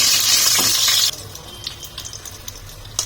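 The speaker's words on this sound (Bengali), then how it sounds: "ওই মাছ ভাজার তেলেই আমি প্রথমে কালো জিরা ফোড়ন দিয়ে নিলাম। তার মধ্যে চেরা 4টে কাঁচা লঙ্কা সেটা ফোড়ন দিলাম।" Nigella seeds and four slit green chillies sizzle in oil left over from frying amudi fish: a loud, dense hiss for about a second, then quieter crackling with scattered pops and a sharper spit near the end, with no talking.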